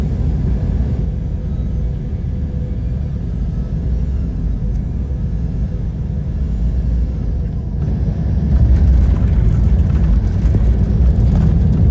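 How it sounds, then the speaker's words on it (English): A passenger airliner on a special landing approach with a late turn toward the runway, heard as a steady low engine rumble that swells louder toward the end, with no voices. "This plane doing a special approach with a late turn so passengers can see the runway"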